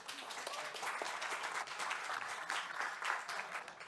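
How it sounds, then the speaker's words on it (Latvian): Audience at a panel discussion on small regional schools applauds the panelists, a continuous moderately faint patter of many hands clapping in a room. "aplausi lūdzu panelistiem."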